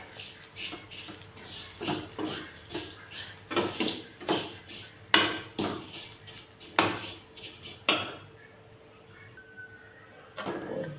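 A spoon scrapes and clinks against a pan while ragi vermicelli is stirred and roasted, in a steady rhythm of about one stroke a second, with a few sharper knocks and a quieter stretch near the end.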